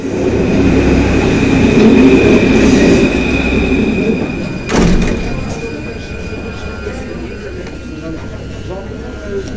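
A Paris metro train on line 4 at Gare du Nord rumbles loudly and continuously with wheel squeal and clatter, a sharp squeal spiking midway, while voices talk throughout.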